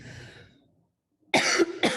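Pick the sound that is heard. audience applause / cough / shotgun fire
cough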